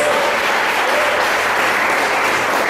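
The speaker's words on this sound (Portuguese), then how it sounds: "Você pode aplaudir ao Senhor, meu querido" A church congregation applauds during a service, steady dense clapping filling the space throughout, close and loud with a faint voice briefly audible under it.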